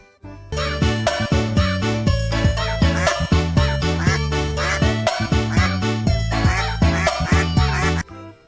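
A colorful plastic toy duck from a toy animal transport truck set plays a loud, bright electronic jingle with repeated quacking tones, a continuous tinkling tune that stops abruptly near the end.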